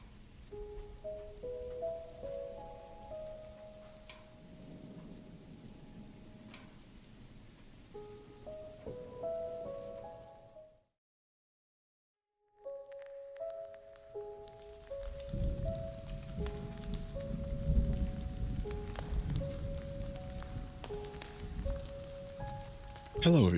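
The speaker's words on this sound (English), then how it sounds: "It's been raining a lot lately. Rain, thunder." Rain falls steadily with distant thunder, a soft continuous patter that drops out briefly and then returns louder and denser, while a tonal melody plays over it.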